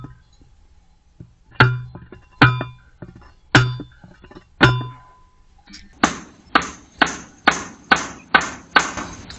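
A fence post on a Portuguese farm is struck with a hammer, first five spaced metallic-edged blows, then a faster run of about eight sharp, ringing impacts, close and loud with no talk.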